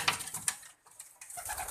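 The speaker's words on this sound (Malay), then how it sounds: "Banyak burung di sini." Farmed pigeons or doves cooing in a bird-breeding area, a few short soft coos and chirps in quick bursts with a brief pause midway, close and fairly quiet.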